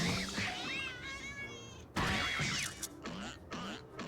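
Meowing from a cat in Final Fantasy XIV: several drawn-out, rising and falling mews come close and clear, with a few shorter mews toward the end over faint game background.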